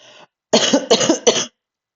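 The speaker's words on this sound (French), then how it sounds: "de tousser au micro" Three harsh coughs in quick succession, close and loud, preceded by a brief breathy sound, then silence.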